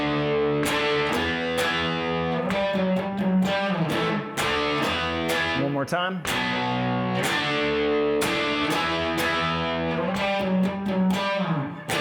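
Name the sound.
power chord riff on distorted electric guitar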